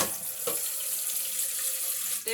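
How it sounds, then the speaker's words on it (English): Water runs steadily from a tap, with a soft knock early on and a clunk near the end. "There's some soothing water noises for ambiance for you."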